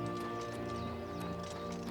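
A horse mount in the video game Oblivion Remastered gallops with rhythmic clip-clop hoofbeats and a brief whinny, set over a steady game music bed.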